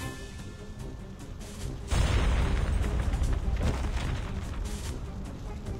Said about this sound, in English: Another bomb hits the ship, the smell of gunpowder and sparks soon fill the air.